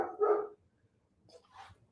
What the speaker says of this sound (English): Barking at the, I think, mailman.